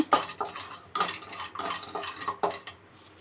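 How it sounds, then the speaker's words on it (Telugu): Cashews and almonds fried in ghee in a pan give off repeated close metallic scrapes and clinks from stirring, in short bursts with faint sizzling underneath. "ఇవి మనకి కొంచెం కలర్ మారేంత వరకు ఫ్రై చేసుకుందాము."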